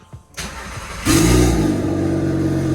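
The 2.5L turbo engine in a MK6 VW Golf R starts after a short crank, close and loud, then settles into a steady, throaty idle.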